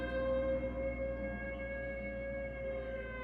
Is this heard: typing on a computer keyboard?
no